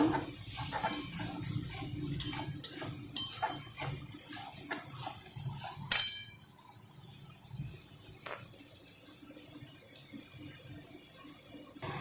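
A spatula stirs cabbage and potato curry with turmeric in a pan, making close, irregular scraping clicks and taps for about six seconds before it turns quieter with only a few faint touches.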